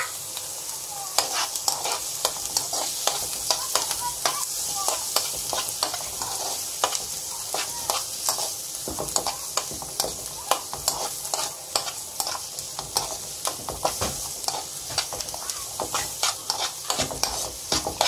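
Egg roll pieces fry in a pan with a steady close sizzle, broken by frequent sharp scrapes and clicks of stirring throughout, and no voices.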